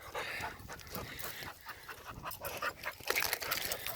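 A dog pants quickly and steadily nearby, fast breathy huffs with some faint rustling in the background.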